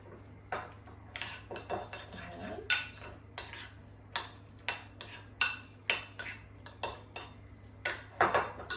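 Chicken salad with coriander being mixed in a large bowl: a spoon knocks and scrapes around the bowl in a regular rhythm of about a dozen clinking strokes, close and moderately loud, with no voices.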